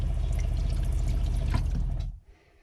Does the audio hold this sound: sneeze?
no